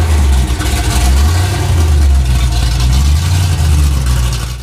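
A supercharged Impala engine runs loud on a dyno, a heavy, throbbing low-pitched roar that holds steady throughout with slight rises and dips in revs.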